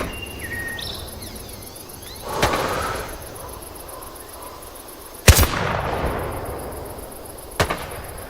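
Rifle shots in the Vietnam War video game Hell Let Loose, three sharp cracks spaced a few seconds apart over a bed of insect chirping and ambient hiss, the middle shot loudest.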